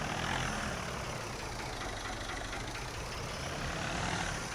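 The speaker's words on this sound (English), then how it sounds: "We'll just park up this tractor here for now." In Farming Simulator 19, a tractor's engine idles low and steady as it is parked. The broadband rumble stays constant with no talk.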